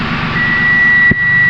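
A multimeter in continuity mode gives a steady, high-pitched beep while its probes clip onto a compressor relay circuit, sounding continuously for over a second with a low hum underneath and a brief click near the end.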